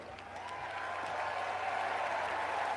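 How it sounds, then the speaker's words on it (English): Subdued, polite clapping from a convention crowd at the Democratic National Convention, a soft steady patter of hands that stays fairly quiet throughout. "Talk about a golf clap."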